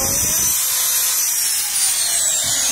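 A Hitachi two-function corded power drill runs continuously at high speed, a steady loud whine close to the listener with a low hum underneath and no pauses.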